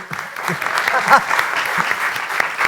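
Applause rises from a stage-show audience, a fairly close wash of clapping that holds steady while someone speaks over it.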